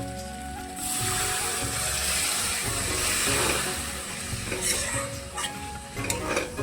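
Cold water hits a sizzling curry in a pan with a sudden loud hissing rush that holds steady, then breaks into bubbling and scattered clinks as it settles.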